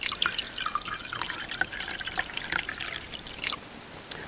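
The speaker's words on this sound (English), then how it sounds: "Pour all the ingredients into the mixing glass." Gin and dry vermouth poured into a mixing glass in the video game Bartender Simulator, with a light trickling, dribbling stream and scattered drips, fairly quiet and close, with no talk.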